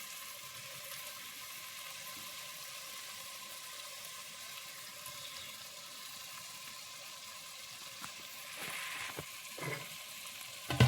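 Tomatoes go into a biriyani masala frying in a pan, a steady soft sizzle with occasional stirring scrapes and clinks growing slightly near the end, no talk.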